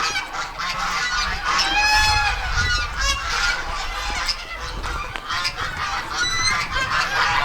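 Several ducks honk and quack in a noisy, overlapping chorus close by near their run, calling repeatedly throughout with no pauses.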